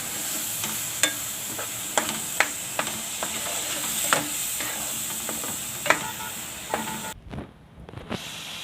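Spice masala with grated tomato sautéing in oil for a potato and capsicum curry, a steady close sizzle broken by regular scraping taps of a stirring spoon, fading into quieter hissing near the end.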